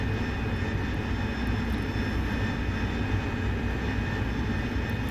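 A jet engine drones steadily in the DCS World flight simulator, a dense, constant roar with a faint high whine holding evenly for the whole stretch, loud and alone without speech.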